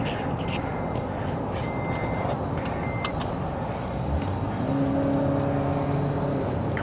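Dense road rumble from a vehicle stuck behind a truck on the highway between Revelstoke and Rogers Pass, steady and loud throughout, with tonal whines rising near the end.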